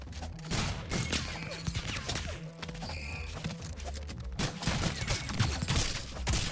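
Rapid bursts of gunfire from bullets in the video game ROUNDS crackle in dense, chaotic volleys with thumps and impacts, loud and continuous throughout.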